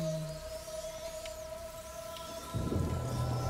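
Steady rain hisses in A Plague Tale: Innocence over a low tonal hum, growing heavier and louder in the last second.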